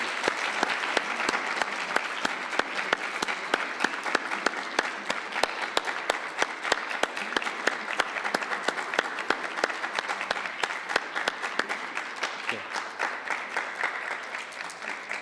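Sustained audience applause for participants at a Pan African mathematics olympiad, dense steady clapping from a large hall crowd lasting throughout, loud and even with no talk over it.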